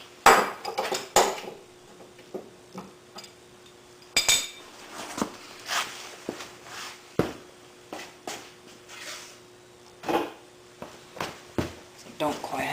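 A wrench tightens a bolt on a Ford Zetec engine during timing belt and oil pump front seal work, giving scattered metallic clinks and clanks of tool against metal in irregular bursts, with faint speech between them.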